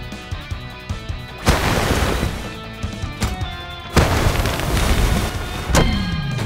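Cartoon cannon blasts from Blast's cannons on an animated rescue-robot show, two heavy booming impacts with rumbling tails over a busy music-and-effects bed, no voices.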